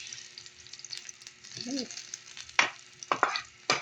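Onions frying in a pan with a gentle sizzle, broken by several sharp spatula scrapes, plus a short murmuring vocal sound midway.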